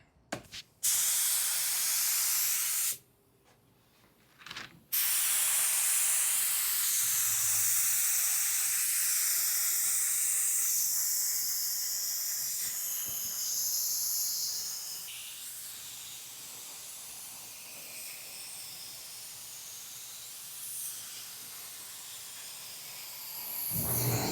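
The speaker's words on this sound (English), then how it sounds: "this is the same gun I used to do my base coat" Paint spray gun laying base coat on a truck during a cheap DIY paint job: a loud, steady hiss of spraying with a short break near the start, then continuous spray that eases slightly toward the end.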